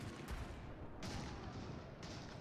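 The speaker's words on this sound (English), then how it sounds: "Yeah, the cannons are going first." Cannons firing in a strategy video game battle, a few heavy booming shots roughly a second apart over a constant rumbling battle din, loud and fairly distant, no talk.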